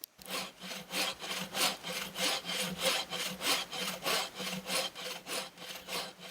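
A hand saw cuts through a tree trunk outdoors in winter, sectioning firewood with about sixteen close, even back-and-forth strokes in a steady rhythm.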